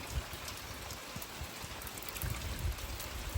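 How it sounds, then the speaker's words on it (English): Rain falls steadily, a dense hiss with scattered nearer drops pattering on a surface, fairly close and continuous, with no voices. "today we're getting the rain"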